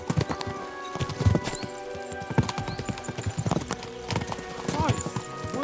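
Horses in the video game Kingdom Come Deliverance II clip-clop steadily at a gallop with quick rhythmic hoof beats, an occasional whinny and a background music bed throughout.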